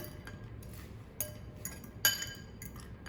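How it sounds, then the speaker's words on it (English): Gushers candy being mixed with simple syrup in a bowl gives a few sparse, light clinks of a utensil against the bowl over a low, steady background rumble; no one speaks. "put it in a bowl, get your gushers, place them in here, mix them"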